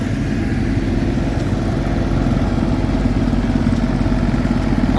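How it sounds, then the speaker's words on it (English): A vintage tractor engine runs at an agricultural show with a steady, chugging idle that stays close and even throughout, with no talk over it. "That's a lovely little tractor."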